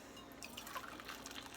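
Boiling water being poured into a bowl of cornmeal, sugar and salt for hot water cornbread, a soft close trickling and splashing that stays faint.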